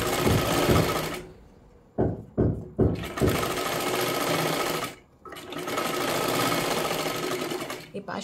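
A sewing machine stitches the lining of a boat-neck katori blouse in fast whirring runs, stopping briefly several times with short bursts in between, while someone talks over it.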